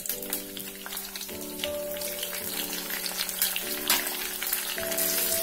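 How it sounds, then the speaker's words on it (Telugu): Cumin and mustard seeds sizzling and popping in hot oil for sherva biryani gravy, a busy crackling sizzle with scattered pops, close up and fairly loud, under a faint background hum. "ఆయిల్ వేడెక్కిన తర్వాత 1/2 స్పూన్ వరకు జీలకర్ర అండ్ 1/2 స్పూన్ ఆవాలు తీసుకోండి."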